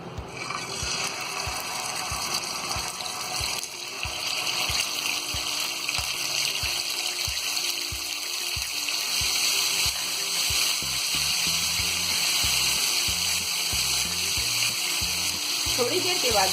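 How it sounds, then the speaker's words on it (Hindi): Marinated chicken pieces fry in oil in a pan with a steady, bright sizzle that holds throughout, starting under a soft rhythmic ticking that fades out. Near the end a few louder bubbling crackles break through. "एक पैन में हम थोड़ा थोड़ा तेल डालेंगे इस तरह और मैरिनेट किए हुए पीसों को इसमें फ्राई करेंगे।"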